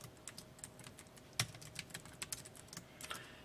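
Typing on a computer keyboard while working in Excel: quiet, irregular key clicks and a few sharper keystrokes, close by, with no talk.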